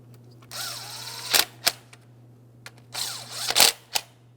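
Mounting hardware for the wiring harness is tightened on a 2003-2008 Toyota Matrix 1.8L four-cylinder engine, heard as two close clusters of short mechanical clicks and scrapes over a low steady hum.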